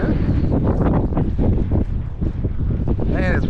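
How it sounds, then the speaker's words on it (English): Strong wind buffeting the microphone on a fishing boat out on the water, a continuous rough gusting rumble, with faint brief voice-like sounds near the end. "And it's windy out here today though."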